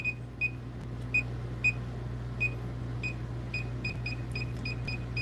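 Short high-pitched electronic beeps from a circuit tracer receiver held at breakers repeat at irregular intervals over a steady low hum, fairly faint, with no talking.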